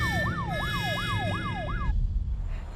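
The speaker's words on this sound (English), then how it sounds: "What's that sound? That, Anna, is the police" A police siren wails in a steady, rising-and-falling pattern, about five quick cycles, loud and close over a constant road and engine rumble, then cuts off abruptly, leaving only the background noise.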